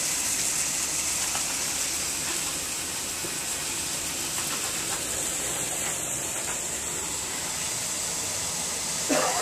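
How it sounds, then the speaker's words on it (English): Water gushes steadily into an enlarged garden pond, a continuous close hissing rush with no talk, ending in a brief splashy burst. "Got the water flow coming nice here."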